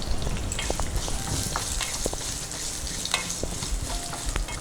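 Curry leaves dropped into hot oil with urad dal and garlic, giving a dense, crackling sizzle with sharp pops and light stirring scrapes, close and steady throughout.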